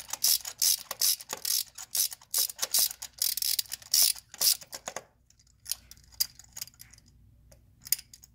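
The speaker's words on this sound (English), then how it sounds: "you're going to want to put your socket and your ratchet in there." Socket ratchet removing a spark plug from a 2015 Dodge Journey 2.4L engine, with rapid, loud ratchet clicking in quick bursts for the first half, then sparser, quieter clicks and pauses, close up with no talk.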